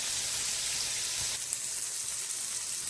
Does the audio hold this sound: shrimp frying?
yes